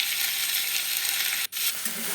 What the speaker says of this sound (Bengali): এবার মাছগুলো দিয়ে দিলাম দিয়ে ভালো করে ভাজা ভাজা করে নিলাম